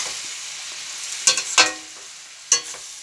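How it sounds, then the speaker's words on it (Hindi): Pumpkin and tomato curry cooking in a pan: a soft, steady sizzle with a few sharp spoon scrapes and clinks while it is stirred, close by, with no talking. "इसको अच्छे से मिक्स कर देते हैं"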